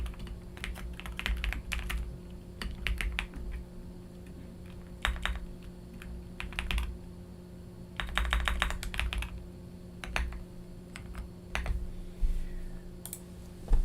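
A computer keyboard is typed on in quick bursts of clicky keystrokes with short pauses between, close and moderately loud over a steady low hum, with no talking.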